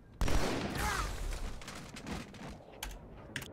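Rapid gunfire from the video game Halo 2, played on Legendary difficulty. A dense burst of shots opens loudly near the start and then continues as sustained, clattering fire that slowly thins. A few sharp, isolated clicks follow near the end.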